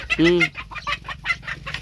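A chicken lets out one loud, drawn-out squawk up close, followed by a scatter of quicker, softer clucks from the bird.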